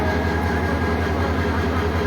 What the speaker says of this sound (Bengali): ট্রেনটিকে সামনের দিকে টেনে নিয়ে যাচ্ছে